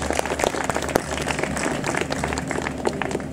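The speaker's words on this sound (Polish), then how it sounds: "Przywitajmy brawami." An audience at a ceremony in Gdańsk breaks into steady applause to welcome guests, a dense crowd clapping that fills the space evenly for a few seconds.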